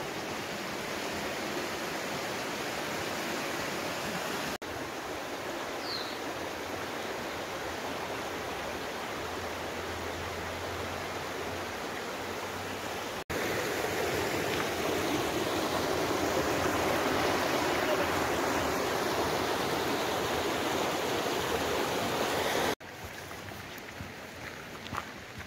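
Water flowing along a canal at an organic farm, a continuous even rush of moderate loudness with no voices, shifting slightly louder partway through.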